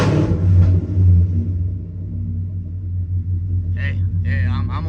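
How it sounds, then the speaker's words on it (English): A custom-built car engine idles with a deep, steady rumble and swells slightly in a gentle rev, loud and close, with a short burst of a voice near the end. "I'm going to give it a little baby rev."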